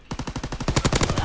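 Automatic gunfire in a video game shooter on an Ardennes Forest map, a fast, even burst of loud, close shots in rapid rhythm.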